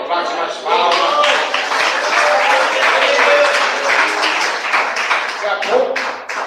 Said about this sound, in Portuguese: Bate mais palmas.